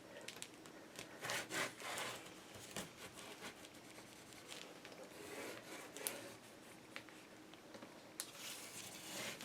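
Paper being burnished down onto a Stamperia Sea Dream craft album with a tool, a steady run of soft rubbing and scraping strokes at close range with a few sharper scuffs, no talking.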